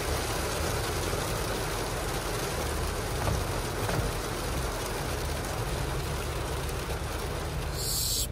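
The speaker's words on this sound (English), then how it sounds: "It's some good sized hail." Good-sized hail falling on a car, a dense, continuous roar of rapid impacts drumming on the body, loud and steady throughout.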